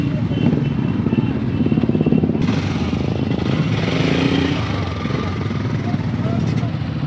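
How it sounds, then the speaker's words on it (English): A motorcycle engine idles and revs at a bike festival in Nagaland, with a loud, steady rumble that swells for a moment, while people chat over it. "Come on, rev it up."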